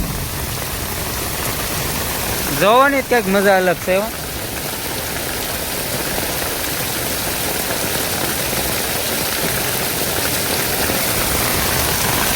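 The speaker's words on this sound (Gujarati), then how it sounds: "ફૂલ વરસાદ આવી ગયો." Heavy rain falls on open farm fields in a continuous, close roar of drops, with a short burst of talk near the start over the steady downpour.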